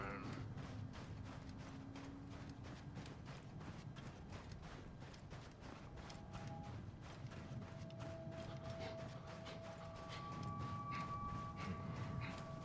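Horse hooves clop steadily in the Assassin's Creed Origins game world, a quick regular run of hoofbeats over faint mechanical clatter and background ambience, with no talk.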